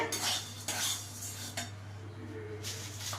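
Fried flattened rice goes into a wok with a few quiet metallic clinks and scrapes of a utensil against the pan over a low steady hum.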